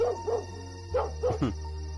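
A dog barks several times in short yips and bow-wows over a low steady hum, the barks fairly close and moderately loud, some clustered together near the end, with no talking.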